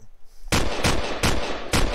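A silenced semi-automatic rifle fires in a video game, four sharp shots spaced roughly a third of a second apart after a brief quiet start.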